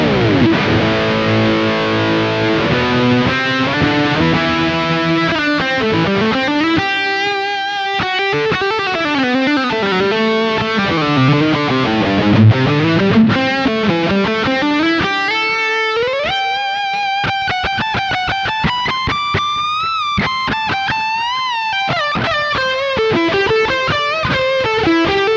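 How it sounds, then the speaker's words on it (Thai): A Chapman ML3 Pro Modern electric guitar with Seymour Duncan Pegasus and Sentient pickups plays through heavy distortion: loud, sustained overdriven notes, bends and riffs with ringing harmonics, played alone with no talking. "เดี๋ยวเรามาลองฟังเสียงแตกกันดูครับ"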